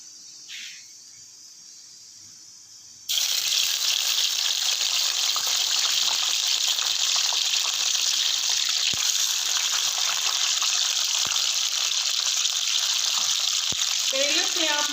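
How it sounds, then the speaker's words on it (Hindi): Squeezed bitter gourd pieces drop into hot oil on a stove and erupt into a loud, steady, crackling sizzle that carries on without a break, after a few quiet seconds of faint kitchen sound. "मैंने ऑयल लिया है और इसे गर्म होने के लिए चूल्हे पे मैंने रख दिया है। तो अब हम इसमें शामिल करेंगे करेले।"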